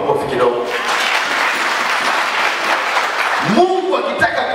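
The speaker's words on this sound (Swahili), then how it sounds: "Hebu tuwape makofi kidogo" A church congregation claps in a dense burst of applause for a few seconds, with a voice speaking just before and again as it fades.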